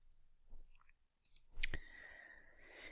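A couple of soft computer mouse clicks while working in medical prescribing software, brief and quiet, with a faint electronic tone trailing after.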